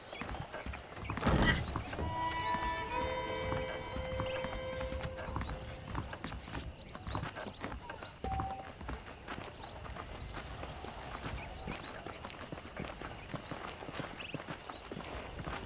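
Steady clip-clop of saddled horse hooves walking in the game Red Dead Redemption, with a brief whinny near the start and a few thunks over low background ambience.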